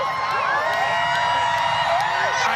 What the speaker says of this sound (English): The crowd here is absolutely ecstatic.